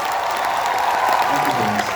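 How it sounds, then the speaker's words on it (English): Steady applause from an audience, a dense wash of clapping that holds evenly throughout. "Please give him a big round of applause."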